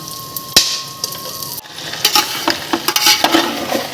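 Spices tipped into a large pot with a little ghee while cooking morog polao, chicken pilaf: a steady sizzle with close, irregular clinks and scrapes of a spoon against the metal, plus a sharp knock early on.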